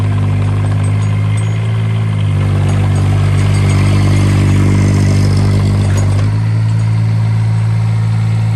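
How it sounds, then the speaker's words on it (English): A 2001 Kubota K008 mini excavator, a low-hour unit in excellent shape, runs loudly and close during a demo, its small diesel engine droning steadily and shifting pitch as it works. "there's the demo, guys, of the Kubota K008 little mini excavator"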